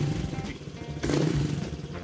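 Honda Vario 150 scooter fitted with an aftermarket racing exhaust, heard close up idling with a low burbling putter, then a short throttle blip that swells the exhaust note before settling back.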